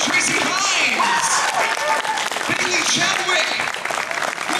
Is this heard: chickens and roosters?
no